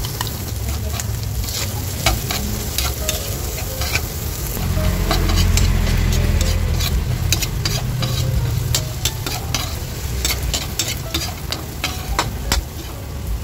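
Onion and garlic sauté in a wok for a mixed vegetable dish, with a loud continuous sizzle, a low rumbling swell midway, and many quick clattering stir strokes throughout; no speech.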